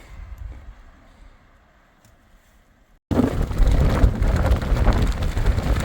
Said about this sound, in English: We lost the wind protection from the mountain. Back in the high winds.